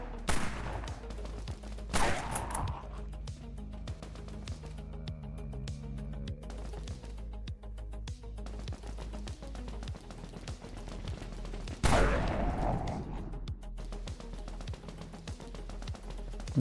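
Rifle gunfire in the zombie shooter Dead Frontier, with two sharp, loud single shots standing out against a steady rumbling game background and a quieter volley in between.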